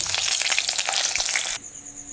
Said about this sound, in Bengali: এবার আমি বেগুনটা দিয়ে দেবো।